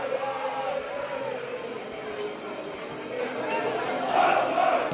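F Troop supporters at a football match chant and roar as a crowd, a sustained distant mass of voices that swells louder toward the end.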